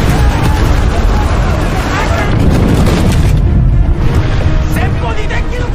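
Ship cannons fire during a Joseon versus Japanese fleet naval battle in a video game. Heavy booms and rumbling blasts keep coming, dense and loud throughout, with narration running over them.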